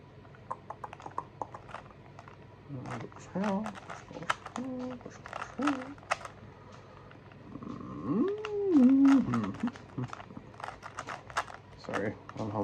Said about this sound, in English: Sorry, I'm humming.